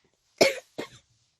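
Two short coughs, close and fairly loud, the first stronger and the second softer, separated by a brief pause and followed by silence.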